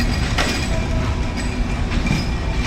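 The Chilahati train pulls out of a Bangladeshi station bound for Dhaka, a loud steady rumble of rolling railcars with clattering wheels and faint metallic squeals, close by and continuous.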